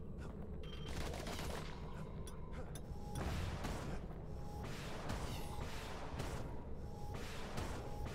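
A video game cannon fires in a rapid sequence of sharp, bursting blasts with mechanical clatter and creaks between them, dense and continuous across several seconds at fairly low overall level.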